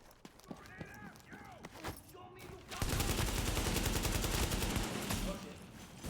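A voice talks over sparse scattered shots in The Division's Dark Zone, then a sustained loud barrage of rapid automatic gunfire takes over and keeps rattling steadily to the end.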